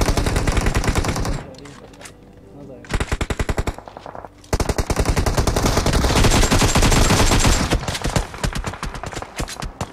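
Automatic gunfire from a PUBG battle in war mode, loud sustained bursts of rapid shots with two brief pauses, a voice speaking briefly under it.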